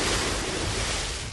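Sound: fast-flowing Makra river water

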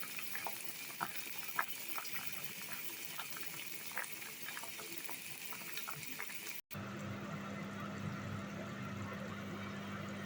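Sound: vegetables frying in a pan

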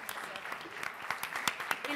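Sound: applause

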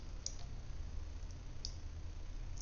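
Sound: computer mouse clicking

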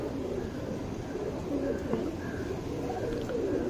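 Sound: racing pigeon cooing

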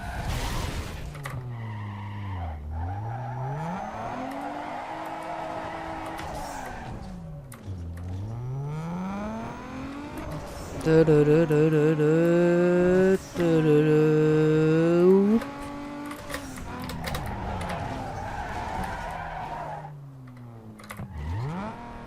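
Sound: Tesla Model S car driving and skidding in NFS Underground 2 (video game)

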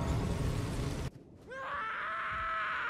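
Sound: scream in the video game Elden Ring

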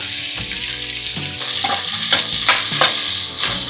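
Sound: onions frying in hot oil

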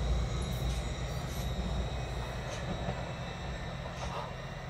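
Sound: train approaching platform

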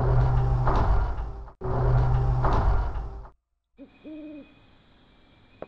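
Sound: owls hooting in the video game Dino Crisis

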